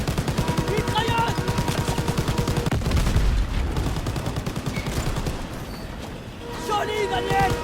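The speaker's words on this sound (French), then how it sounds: "Mitrailleuse." Rapid bursts of machine gun fire rattle through a World War II video game battle, with rhythmic repeated shots that pause briefly before resuming, mixed with voices and game sounds.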